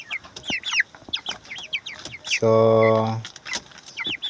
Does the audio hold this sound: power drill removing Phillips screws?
no